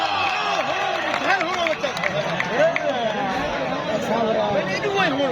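Dense stadium crowd at a match at Al Noor Stadium, steady loud hubbub of cheering and clapping with a commentator's voice talking over it throughout.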